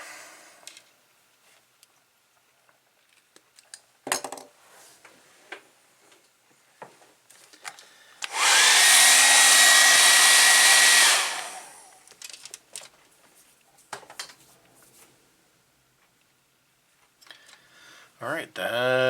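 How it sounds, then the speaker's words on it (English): A blow dryer whooshes loudly for about three seconds in the middle, steady and near, with a voice talking and scattered small clicks and handling noises around it. "we're going to hit them with the blow dryer"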